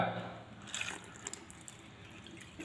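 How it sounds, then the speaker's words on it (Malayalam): Tap water running through a cut toothpaste tube nozzle fitted as a faucet spout, a soft steady trickle and splash into a sink with faint drips, fairly quiet. "വളരെ നീറ്റായിട്ട് വെള്ളം വരുന്നുണ്ട്"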